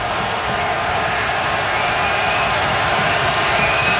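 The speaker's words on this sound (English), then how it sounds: "Man, this crowd is loud." A packed NFL stadium crowd at a Pittsburgh Steelers versus Baltimore Ravens game roars in a continuous, loud wall of cheering and noise with no break throughout.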